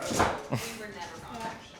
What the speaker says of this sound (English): I'm going to introduce our dog. She's Australian Shepherd.